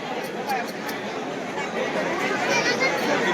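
Dense, steady chatter from a packed crowd waiting in a darshan queue at a Vitthal temple in Nandwal during Ashadhi Ekadashi, many overlapping voices forming a continuous close hubbub with no single voice standing out.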